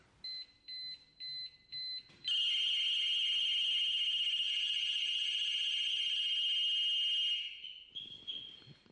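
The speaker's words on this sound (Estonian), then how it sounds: "kuidas teeb nii sisesireen kui ka välisireen siis häält" Home security alarm system with indoor and outdoor sirens: four short electronic beeps, then a loud, steady, high-pitched siren wail lasting several seconds before cutting off, followed by a fainter tone.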